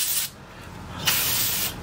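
Two hissing bursts of aerosol spray, a short one and then a longer one, with a brief pause between them, sprayed during a Jeep Grand Cherokee fuel sending unit replacement.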